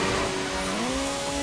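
A Honda Civic EG6 races in the Initial D Extreme Stage arcade game, its engine holding a steady, high, close-up drone with slight pitch shifts throughout, and no talking.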